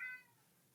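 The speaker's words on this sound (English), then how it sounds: "And you can hear the cat in the background agreeing with me." A cat gives a single short meow in the background, faint and distant, trailing off into quiet room noise.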